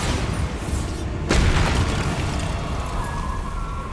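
A Bombarda spell blast in Hogwarts Legacy lands as a loud, deep boom over a continuous rumbling din, with a sharp burst near the middle and a roaring low tail that stays heavy to the end.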